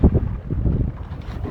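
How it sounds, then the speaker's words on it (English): A sailboat under full sails in a stiff breeze on flat water off Garden Island, heard as a steady low rush of wind and water with buffeting wind noise on the microphone and no voices. "sailing out from Garden Island on the full sails, a stiff breeze, flat water, sunshine."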